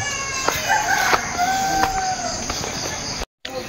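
A rooster crows outdoors among chickens on a sunny morning, a drawn-out crow rising over steady background clucking and insect chirping, with a brief dropout near the end.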